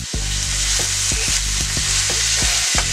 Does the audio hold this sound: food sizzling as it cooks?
yes